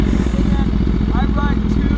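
Motorcycle engine and exhaust rumble loudly and steadily throughout, with voices talking over the engine noise.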